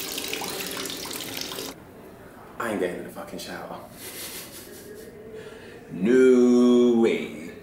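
Water runs from a shower in a small pod, a hissing stream that starts and stops, with bursts of splashing, while someone talks over it.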